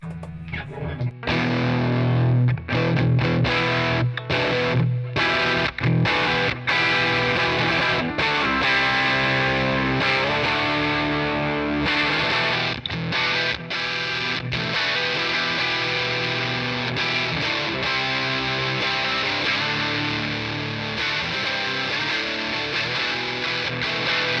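Electric guitar played through a Bigfoot Engineering King Fuzz pedal, loud and saturated with thick fuzzy distortion, a continuous run of riffs and chords with sharp gaps between phrases, close and alone.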